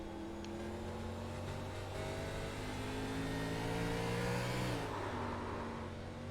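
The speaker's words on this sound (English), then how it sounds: "You hear when that throttle got loose" A race car engine drones loudly in a stock-car racing video game, holding a steady pitch, then the throttle breaks loose and the revs drop sharply near the end.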